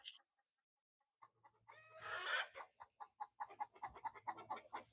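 Chickens and roosters in a backyard coop and run give a few short early calls, then after a brief pause break into a loud squawk followed by a run of rhythmic clucks, close by and fairly quiet overall.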